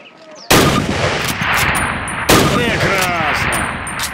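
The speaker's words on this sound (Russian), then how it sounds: "Теперь дважды прицельно выстрели по мишени." Two loud, aimed Springfield rifle shots at a target in the Call of Duty video game, spaced about two seconds apart, each ringing out with a long reverberant decay.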